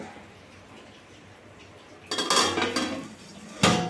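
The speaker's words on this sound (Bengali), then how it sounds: "আমি এটাকে হাই ফ্লেমে রেখে ঢাকা দিয়ে দিলাম" A metal lid clatters onto a cooking pot of prawn pulao set over a high flame, giving a burst of scraping, rattling clinks and then a second sharp clank, loud and close.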